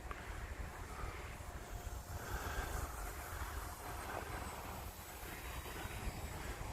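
Model airplane flying at about half throttle into a light wind outdoors, a steady broadband engine drone with strong wind noise, continuous and fairly even in level throughout.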